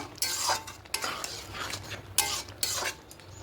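Ghee and garam masala powder are stirred into chickpea dal with potatoes, giving a series of close scraping strokes of a spoon against the pot, roughly every second, over a faint simmer.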